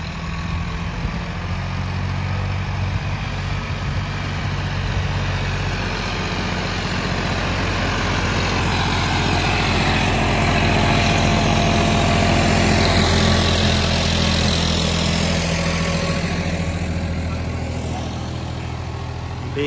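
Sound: tractor engine running

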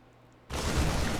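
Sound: gunshots in StarCraft 2 video game

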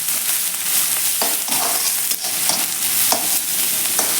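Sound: onions frying and stirred in oil

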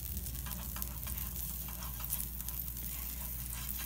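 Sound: margarine melting and sizzling in a frying pan

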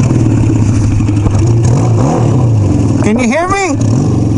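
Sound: Royal Enfield motorcycle engine riding

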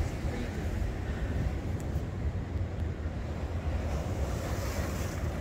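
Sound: big ocean waves at Venice Beach

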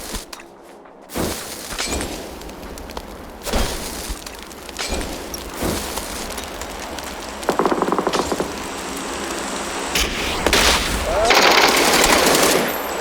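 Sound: gunfire in the video game PUBG

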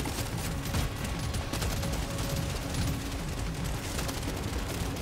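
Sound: gunfire in video game Deep Rock Galactic: Survivor

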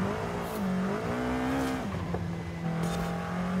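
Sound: bubble car engine accelerating in video game Forza Horizon 5

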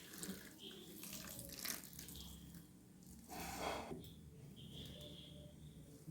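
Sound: coconut milk being poured

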